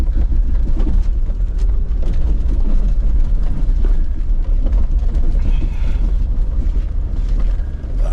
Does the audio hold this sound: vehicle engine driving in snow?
yes